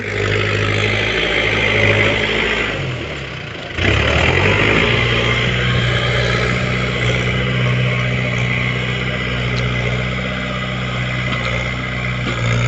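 A tractor engine runs continuously nearby with a steady droning hum, briefly dipping and then surging back to a constant chug.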